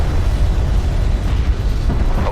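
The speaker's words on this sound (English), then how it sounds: "Enemy airstrike inbound." An enemy airstrike in a sci-fi strategy game, Dvoid Coalition against hard AI. It lands as a loud, continuous low roar of explosions that fills the whole clip, with no voices over it.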